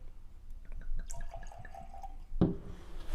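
Henry McKenna 10 year single barrel bottled-in-bond whiskey is poured in a small measure, a quick run of soft glugs into a glass, ending in a sharp clunk as the bottle or glass is set down.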